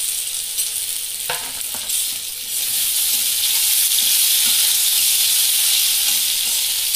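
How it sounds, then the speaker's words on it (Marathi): Alu wadi, colocasia leaf rolls, fry in hot oil with a loud, dense, steady sizzle that swells and holds after a few early clinks and stirs. Close up, with no talking. "इथं आपलं तेल गरम झालेलं आहे, आपण त्यामध्ये वड्या टाकणार आहोत"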